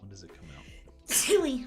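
A person speaks briefly, then a loud, sudden sneeze bursts out close by.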